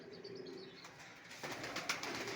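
Pigeons in a pigeon loft, soft cooing and rustling from nearby birds, quiet and brief with a couple of sharper chirps.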